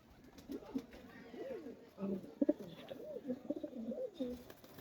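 A female pigeon coos close by in a series of soft, rolling, throaty calls, repeating in short phrases over a quiet background.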